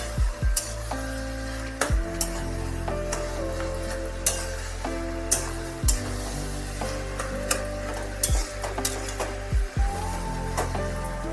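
Bengali chachchori with hilsa fish head and brinjal is stirred in a pan, with a soft continuous sizzle and repeated sharp knocks and scrapes of a spatula against the vessel, close by, with a tonal hum running underneath.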